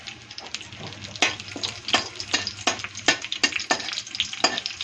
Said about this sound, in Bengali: তেলটা গরম হয়ে গেছে, কারি পাতা ছেড়ে দিলাম